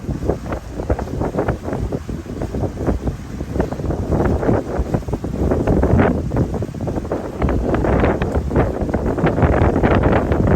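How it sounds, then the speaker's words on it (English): Strong wind buffets the microphone in loud, irregular gusts and rumbles on a boat in choppy water off Hernando Beach, roaring continuously without any voices. "it's pretty windy out today"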